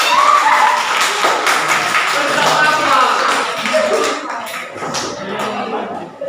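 A classroom of students claps their hands in a quick rhythmic burst, close and fairly loud, with voices talking and calling out over and around the clapping throughout.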